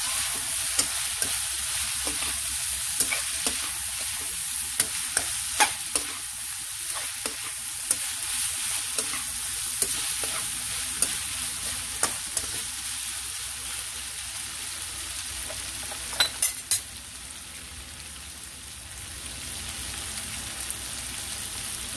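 Pork binagoongan being stirred in a pan: a steady sizzle of frying meat runs throughout, with sharp scattered clicks and scrapes of the utensil against the pan, close and without talk.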